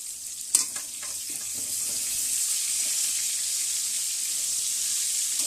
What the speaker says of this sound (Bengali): পটল আর বেগুনগুলো ভেজে নিই।